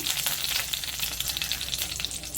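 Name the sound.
curry leaves frying in hot oil in a wok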